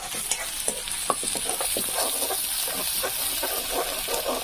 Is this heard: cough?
no